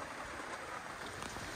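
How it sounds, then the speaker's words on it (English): Steady rain falls around a 2007 MacGregor 26M sailboat moored in an Iowa marina, a soft continuous broadband hiss with no distinct drops standing out, fairly quiet and unbroken throughout. "it's raining nicely here today in Iowa"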